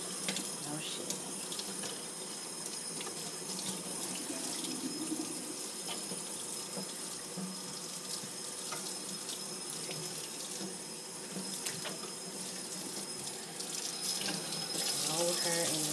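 Water runs steadily from a sink tap while conditioner is rinsed from virgin human hair, a continuous close splashing flow with faint voice underneath.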